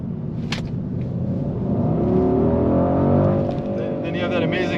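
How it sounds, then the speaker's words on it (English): A 2023 Mercedes-AMG GLE 63 S with a V8 accelerating hard on a winding road, its loud, steady engine roar building and swelling close by inside the cabin. "Then you have that amazing rush of acceleration with the V8."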